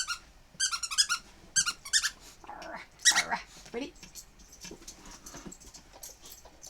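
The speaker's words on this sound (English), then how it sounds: "He's growling." A small dog growls and squeaks while tugging at a play toy indoors, bursts of high squeaky yips and low rumbles close by, with a person's voice speaking briefly.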